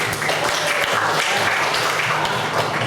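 A classroom full of people applauds steadily, a dense wash of clapping that holds at the same level from start to finish.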